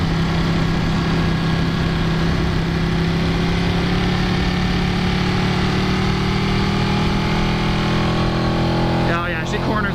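A 2015 Ducati Panigale 899 engine while cornering: a loud, close, continuous drone with a steady pitch and wind rush, briefly disturbed at the very end.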